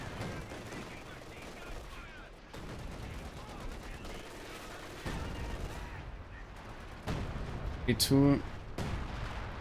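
Machine gun fire in a World War II tank battle video game with Shermans, a rattling burst rising near the end over steady battlefield rumble, with a commentator talking throughout.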